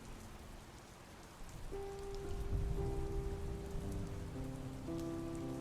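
Rain falling in a VR world, a steady broadband hiss of drops on a surface that grows a little fuller midway, with faint tonal hums underneath and no voices.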